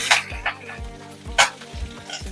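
Cloves, bay leaf, mustard seeds, cumin and green chillies sizzling in hot oil for a Kathiyawadi sev tameta sabji tempering, a close crackling fizz with a few sharper pops and low thuds.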